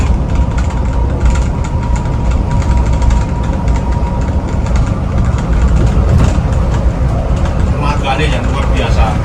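Mercedes-Benz 1626 truck with a V engine and manual gearbox, Euro 4, running on a road test: a steady loud engine drone and rumble with people talking over it throughout.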